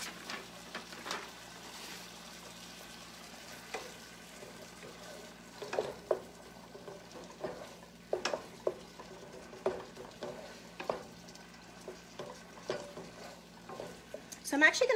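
Ground beef browning in a pan for a cheesy chili spaghetti squash casserole, a low continuous sizzle with frequent sharp scraping stirs that grow busier and louder toward the end.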